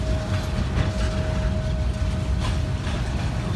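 A BNSF freight train shoves southbound around a connection track toward an interchange, giving a steady low rumble with faint metallic clanks and a thin sustained squeal, fairly close and continuous, with no voices.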